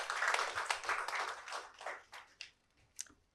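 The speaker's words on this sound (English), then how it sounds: "Please, let's give her a round of applause." Scattered applause from a modest audience at an ESG and sustainability roundtable, loudest at first and then thinning to a few separate claps as it dies away.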